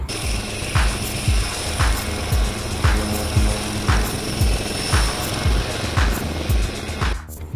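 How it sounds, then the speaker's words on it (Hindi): An Indian Air Force Prachand, the country's first indigenous light combat helicopter, runs nearby with loud, evenly spaced rotor thumps about twice a second over a constant turbine whine, with no speech over it. "इंडियन एयरफोर्स में देश के प्रथम इंडिजिनस लाइट कम्बैट हेलीकॉप्टर का इंडक्शन हो रहा है।"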